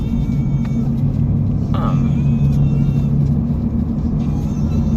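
Steady low engine and road rumble inside a moving car, continuous and fairly loud throughout, with faint traffic whir and no talking.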